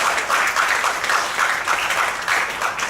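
Audience applause for Professor Dr. Rahman at a cultural talk on the royal institution held at Universiti Utara Malaysia, a dense, steady roar of many hands clapping at close range, sustained throughout with gentle swells.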